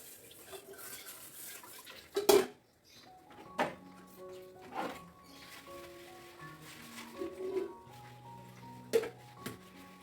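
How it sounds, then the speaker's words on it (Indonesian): Dishes are washed in a simple home kitchen, with sharp clinks and clatters of plates and pans at irregular intervals, ringing tones from struck dishware, and quiet running-water and handling noises between, close by with no talk. "Dan selanjutnya aku mau langsung cuci piring ya teman-teman."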